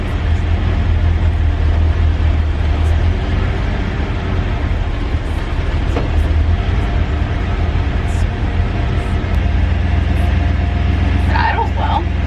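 A 1969 Jeep M715 engine idling, a steady low rumble that holds evenly throughout at close range, with a faint voice briefly near the end.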